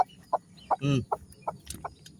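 A mother hen clucks in short, spaced bursts beside her newly hatched chicks in a backyard chicken coop, with one longer, louder squawk near the start and quieter calls continuing at a steady, close rhythm.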